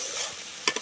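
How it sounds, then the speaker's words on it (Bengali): Spices frying in oil with chicken in a pan, a close steady sizzle with a couple of quick stirring scrapes near the end. "এখন এগুলোকে ভালো করে তেলের সাথে ভেজে নিব"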